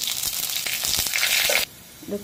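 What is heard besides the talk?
spices and cumin sizzling in hot oil for tadka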